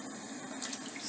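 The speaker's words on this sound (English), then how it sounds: "You gotta use your two hands to wash that rice, honey." Hands swish and scrub rice in a pot of water, a soft continuous splashing and sloshing with a brief brighter burst of water near the end.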